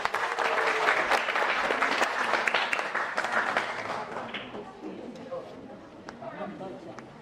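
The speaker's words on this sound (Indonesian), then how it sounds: "Mohon beri tepuk tangan yang meriah untuk Ibu Fatin Hamama." Audience applause for poet Fatin Hamama at a literature and culture award ceremony honoring Taufiq Ismail, lively crisp clapping with audible crowd chatter that gradually fades out.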